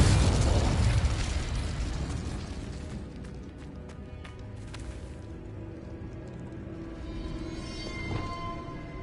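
A Confrigo explosion spell in the Hogwarts video game bursts loud and broad at the start, then rumbles and crackles as it fades, with a smaller flare near the end.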